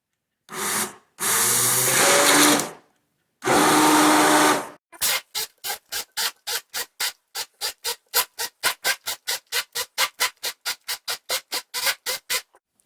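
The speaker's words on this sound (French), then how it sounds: "ce que je préfère, c'est utiliser une mixette" A hand blender whirs through homemade cretons in three long, loud bursts, then settles into a fast, regular series of short pulsing strokes, close and with no talking.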